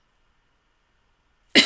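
After near silence, one sharp, loud cough bursts out right at the end. It comes from a person who has had a lingering cough for months.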